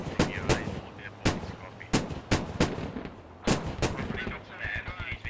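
Rifle fire in the military shooter Squad: a string of sharp, loud shots at irregular intervals, some in quick pairs, with echoing tails and a low background rumble between bursts.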